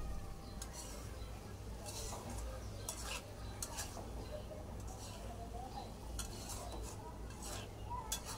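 Fried potatoes and broad bean seeds are stirred together in a sizzling pan, with a spoon scraping and clinking against the metal in repeated strokes over a steady low frying hiss.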